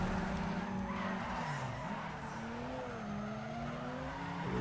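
A car in the racing game Need for Speed Underground 2 skidding under too much handbrake, giving a continuous tire squeal that rises and falls in pitch over a steady engine drone, with no voices over it.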